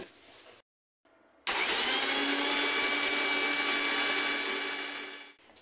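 An electric blender whirs loudly as it mixes thandai powder with milk, starting after a brief pause and holding a steady high whine for several seconds before winding down, with no voices.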